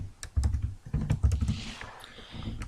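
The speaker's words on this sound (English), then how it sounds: "we're going to type in his name again" A name is typed on a computer keyboard in quick, uneven bursts of close, sharp key clacks, with brief pauses between groups and a faint background hum.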